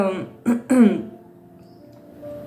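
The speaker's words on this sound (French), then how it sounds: "je me racle la gorge beaucoup" A woman clears her throat twice in quick succession, close and fairly loud, followed by a quiet stretch with faint background hum.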